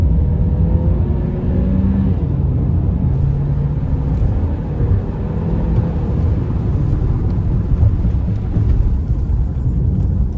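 Chery Tiggo 7 Pro accelerating hard at full throttle on wet ground, a steady loud low engine and road rumble that holds throughout with a rising drone and no talk over it.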